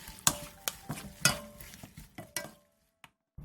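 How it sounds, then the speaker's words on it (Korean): Spoons lightly toss a Korean side dish with perilla oil, whole sesame seeds, chopped green onion and sliced onion, giving soft scattered scrapes and clinks that thin out toward the end, with no talking. "마지막으로 들기름, 통깨, 쫑쫑 썬 대파, 채 썬 양파를 넣고 가볍게 뒤적여 마무리해주세요"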